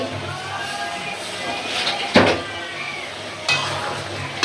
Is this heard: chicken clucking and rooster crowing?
no